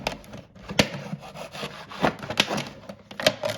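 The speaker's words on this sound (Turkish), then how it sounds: "Şimdi şöyle bıçak yardımıyla bunu kesiyorum" A knife cuts through cracked brined olives after the liquid is drained, giving a series of close, dry scraping strokes and sharp clicks against a board, uneven in rhythm and moderately loud.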